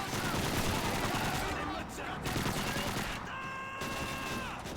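Automatic gunfire in the World War II shooter Call of Duty 2 rattles loudly and continuously, dense bursts filling the whole stretch.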